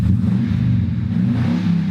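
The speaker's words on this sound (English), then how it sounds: "has the exhaust been modified, as you can hear" A deep, throaty engine of a Chevy Silverado pickup with a modified exhaust rumbles steadily close by, its loud low exhaust note holding with slight fluctuations throughout.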